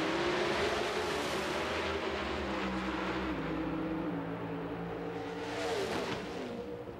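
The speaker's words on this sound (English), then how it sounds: "Warren Johnson's Oldsmobile is the car to watch." An Oldsmobile drag racing car in NHRA qualifying at Gainesville in 1994 roars loudly and steadily, a sustained, dense engine wail that swells slightly near the end.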